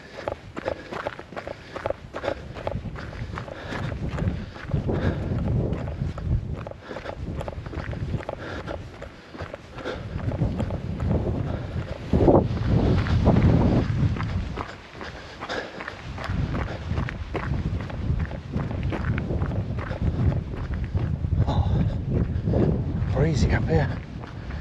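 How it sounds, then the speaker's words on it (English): Gusty wind buffets the microphone on an exposed hilltop during an outdoor run, a continuous low rumble rising and falling, mixed with footsteps and heavy breathing, while a voice speaks now and then. "Breezy up here."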